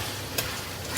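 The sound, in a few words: beef frying in a pan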